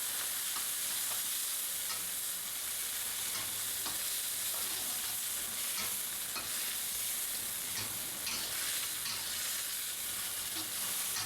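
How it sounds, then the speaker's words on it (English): Chopped ginger and garlic frying with shrimp in a pan for Thai noodles, a dense continuous sizzle with intermittent scrapes and tosses throughout, close and loud, no voices. "we're going to add the finely chopped ginger and garlic and toss well till it's fragrant."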